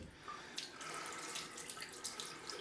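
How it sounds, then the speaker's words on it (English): A bathroom tap runs cold water onto a cloth during a straight-razor shave, a close, steady splashing rush with slight fluctuations as the cloth is wetted. "Let's get some cold water on this cloth."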